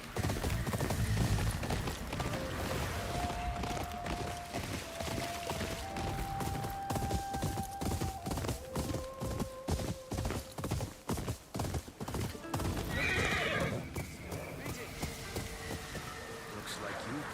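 A horse gallops in the video game Ghost of Yotei, its hooves clip-clopping in a steady rapid rhythm for the whole stretch, with sustained musical tones and a brief swell of other game sounds mixed in.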